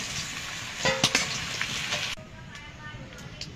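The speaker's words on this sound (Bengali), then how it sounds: "আমি আলুগুলো নাড়াচাড়া করে ভেজে নিয়েছি" Potatoes sizzle in a pan with some clattering stirring, the crackle loud at first and then dropping to a softer, quieter fry.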